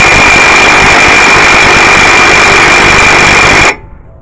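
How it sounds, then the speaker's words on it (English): A Milwaukee nut-busting impact wrench runs in reverse on the passenger-side axle nut of a 2004-2011 Mazda 3, hammering in a loud, continuous rapid rattle for a few seconds before stopping abruptly. "let me go ahead and see if this Milwaukee 250 nut busting reverse torque takes it out"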